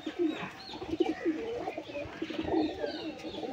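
Close rolling coos from a home-bred female pigeon due to lay eggs, a rapid series of soft throaty notes running on over a faint background.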